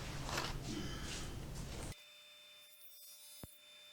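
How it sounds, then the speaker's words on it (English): A drum sander grinds across a butternut wood piece with a dense broadband roar for about two seconds, then cuts off, leaving a faint steady machine hum and one brief sharp knock near the end. "Let's just run it through the drum sander and see what happens."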